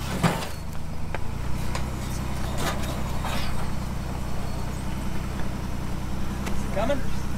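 A new Ford Bronco on a rock crawl churns out a steady, low engine drone as it works up the rock obstacle, with people talking and shouting over it.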